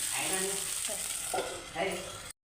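Dosa batter fries in a pan with a little oil poured over the top. The soft, continuous sizzle swells slightly twice, then cuts to silence.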